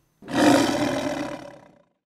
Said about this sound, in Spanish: El rey de la selva es el león.